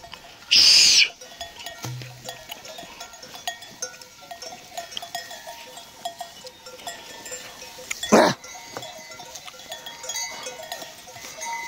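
Sheep on a highland pasture among pine trees, two loud, brief bleats spaced several seconds apart over a quiet outdoor background.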